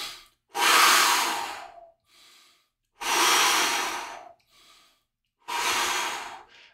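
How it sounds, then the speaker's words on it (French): Three slow, deep yoga breaths in the warrior pose, each a long airy rush of about a second and a half, separated by near-silent pauses with faint soft inhales, close and clear with no talking. "j'inspire et j'expire 3 fois"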